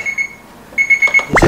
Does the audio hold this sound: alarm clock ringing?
yes